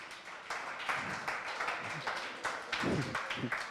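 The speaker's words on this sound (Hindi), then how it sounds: "तालियां बजाइए एक बार इनके लिए जोरदार।" Students clapping in a classroom, a thin scattered round of handclaps with uneven rhythm, moderately close, with faint voices underneath.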